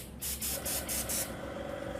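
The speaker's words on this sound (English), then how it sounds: "airbrush, and I'm going to spray through it and do it all on and do a couple of coats" An airbrush sprays paint onto a handmade dice tower in several short hissing bursts, fairly quiet and close. A steady faint tone sits under the bursts after they end.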